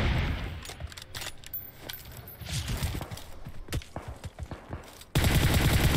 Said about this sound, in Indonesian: kenapa pada tembakin gua sih?